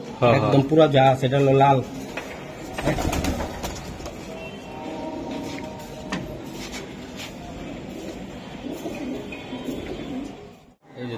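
Old-breed chila pigeons in a loft, red and orange chila among them, give soft cooing and fluttering in the background while someone talks steadily over them.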